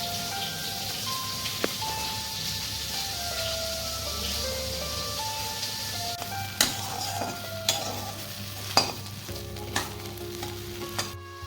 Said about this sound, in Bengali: আজকে যে পাঁচমিশালি নিরামিষ সবজিটা রান্না করছি এখানে আমি হলুদ লবণ তেল ছাড়া আর ফোড়নে কিছু পাঁচ ফোড়ন দিয়েছি